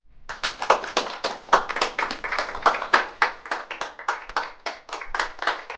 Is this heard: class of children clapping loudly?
yes